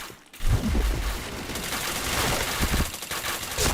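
Gunfire from the shooter game Point Blank: dense, loud, continuous rapid bursts of automatic shots filling the whole stretch, with a brief lull near the start.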